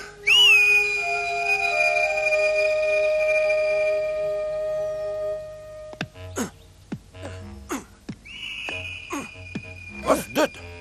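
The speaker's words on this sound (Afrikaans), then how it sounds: "het jy ook daai fluit gehoor? Daai fluit." A sharp, clear whistle rings out at the start in an animated cartoon and holds a steady tone for a few seconds. A second long whistle blast follows later, mixed with short clicks and rattles.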